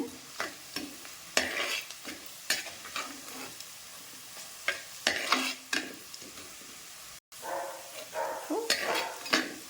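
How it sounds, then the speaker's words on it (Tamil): Small onions fry in hot oil for a garlic kuzhambu, giving a faint, steady sizzle broken by repeated stirring scrapes and clinks of a spoon against the pan. "பாதி கலர் மாறினதுக்கப்புறம் சின்ன வெங்காயம் போட்டுக்கலாம்"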